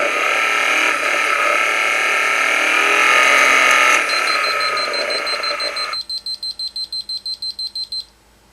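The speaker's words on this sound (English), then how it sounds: "As you can see, the alarm's gone off." After a loud engine roar with induced detonation cuts off, a knock detection alarm beeps rapidly in a steady series of about a dozen short, shrill pulses.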